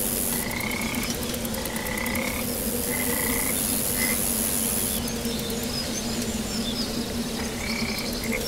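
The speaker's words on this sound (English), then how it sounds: "Those frog sounds are really real." Frog croaks in the Epistory video game ring out in short repeated bursts over a steady insect-like drone of in-game ambience, with no talking.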